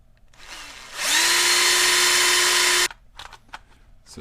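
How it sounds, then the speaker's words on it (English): A power drill pre-drills a small hole in a slide potentiometer mod for a 9XR radio transmitter, whining steadily at close range for about two seconds after a faint start, then stopping abruptly. "So I'm going to start with a small pre-drill,"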